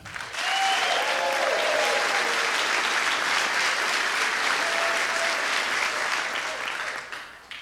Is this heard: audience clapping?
yes